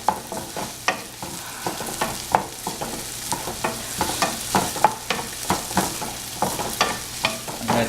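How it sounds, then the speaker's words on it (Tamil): Green chilies and spice powders sauté in a pan while preparing kothu parotta, with a soft continuous sizzle under repeated scraping and stirring strokes of a spoon, close and fairly loud. "நல்லா வதக்கங்க."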